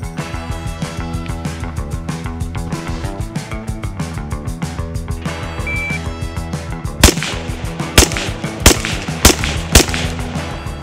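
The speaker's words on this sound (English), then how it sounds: "I'm gonna put 5 rounds on 1X onto that target as quickly as possible." A carbine fires a quick string of five rounds at a 50 meter target on an outdoor range; sharp, loud cracks come in fast succession over a steady background of music-like tonal noise.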